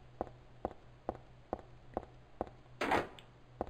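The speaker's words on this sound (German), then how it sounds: "Wenn die Tür kaputt ist, macht sie Klick." In Silent Hill 3, a broken door gives a string of sharp, evenly spaced clicks, about eight in under four seconds, with a short louder rattling burst near the end over a faint low hum.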